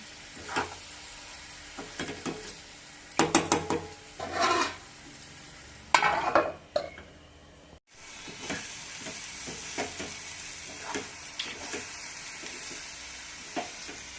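Masala frying in hot oil for a stuffed brinjal curry, a constant crackling sizzle punctuated by scraping stirs and bursts of louder spattering, close up and without speech.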